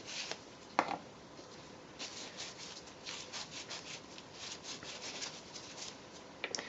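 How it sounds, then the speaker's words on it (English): A cleaning wipe rubbed over the abraded inside edge of a bicycle carbon clamp body, soft brushing and rubbing strokes in irregular bursts with an occasional light knock, close and quiet with no talk. "First of all, clean the abraded inside edge of the clamp body."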